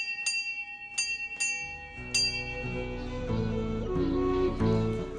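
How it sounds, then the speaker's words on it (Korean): A school bell in a remote Himalayan village in Mustang, at about 3500 m, rings out several clear, separate strikes that announce the noon lunch break, each ringing tone fading away as a sustained hum of other sounds rises behind it. "12시, 점심시간을 알리는 종소리가 울립니다"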